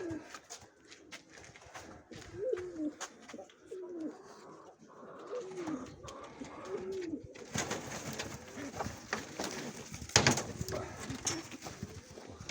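Several Mykolaiv pigeons coo softly in low, rolling calls, with rustling and scattered clatter around them, growing busier and louder in the second half.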